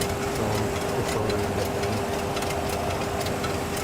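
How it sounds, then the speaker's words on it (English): Boeing 737 MAX cockpit during MCAS intervention, a steady mechanical whirring drone with a faint sustained tone running throughout, with no talk. "this is what MCAS's indication that it was intervening sounds like"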